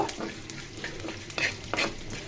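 Spices and chili flakes dry-roasting in a pan for a raw mango pickle, with a steady soft crackle broken by sharper scraping stirs, close and alone with no voices.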